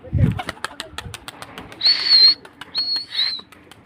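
A pigeon takes off from a rooftop, its wings clapping in a quick burst of flapping, followed by a couple of brief bird calls. Other rooftop noise sits faintly underneath.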